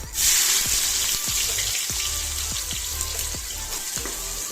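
Onions and garlic fry in a pan for a Tamil sprouts kuzhambu, giving a loud, steady sizzle throughout with a few soft clicks and stirring knocks under it. No one speaks.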